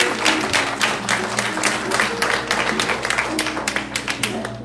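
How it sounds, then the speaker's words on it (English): A church congregation applauds the fathers during a Sunday service, dense continuous hand clapping from a full room holding steady across the whole span, with a low hum of crowd noise beneath. "Let's give the fathers a hand clap at this time."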